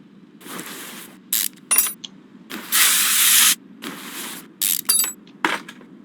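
Lubricant spray hitting a rusted lug nut in Car Mechanic Simulator 21, heard as short hissing spray bursts. One longer burst stands out among several brief ones over a low background hum, with no talk.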